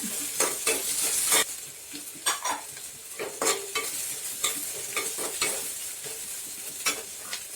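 Chopped green chilies sizzle in hot oil in a pan for rava upma, with a spoon repeatedly stirring and scraping against the metal over a steady frying hiss.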